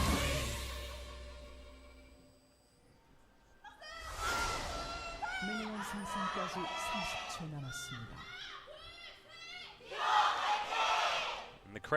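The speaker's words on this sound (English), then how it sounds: "And the crowd explodes." A large esports arena crowd at a League of Contenders Korea match between the ROX Tigers and SK telecom T1 roars with yelling and cheering in loud surging waves, with casters' voices in between.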